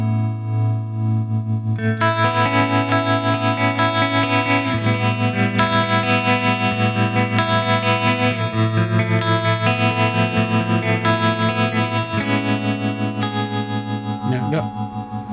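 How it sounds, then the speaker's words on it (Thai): An Enya Sonic JT smart guitar with a built-in speaker plays sustained chords and melodic lines through modulation effects such as chorus, tremolo and vibrato, giving a shimmering, wavering tone that stays loud and continuous throughout. "ในตัวเอฟเฟกต์ที่เป็นโมดูลเลชันเนี่ยเขามีให้เลือกอยู่ จะมีทริมโมโลมีคอรัส มีไวบราโต"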